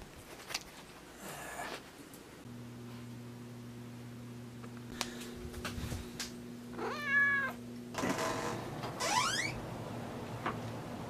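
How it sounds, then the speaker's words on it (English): A black cat meows a few times outdoors, short near mews standing out over a steady low hum and faint background noise, with no one talking. "He's got this black cat"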